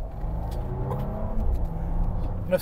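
A Bentley Bentayga accelerating in sport mode, heard from inside as a deep, steady engine drone that swells briefly, with faint talk.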